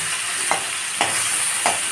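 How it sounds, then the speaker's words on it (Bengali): Taro (kochu) frying in a pan, a loud continuous hiss close up, broken by three evenly spaced stirring scrapes. "কচুটাকে ভালো করে ভেজে নিব"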